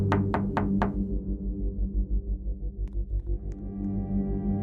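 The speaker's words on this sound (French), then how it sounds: "Il y a quelque chose qui toque à notre fenêtre." Something knocks on a window in four quick, sharp raps near the start, followed by a low throbbing hum and a few faint clicks.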